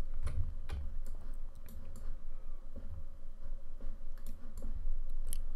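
Close computer mouse clicks and keyboard key taps come from a landscape photo editing session, scattered sharp clicks over a low steady room hum, with no speech.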